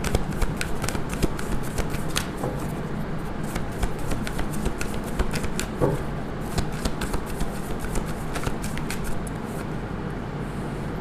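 Tarot cards are shuffled by hand in a continuous soft, papery riffle and rustle, close and fairly quiet, with scattered light taps and flicks throughout.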